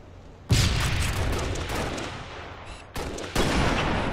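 Loud rocket blasts and gunfire in a jetpack shooter video game, with a heavy burst at the start and two more near the end over a continuous rumbling barrage.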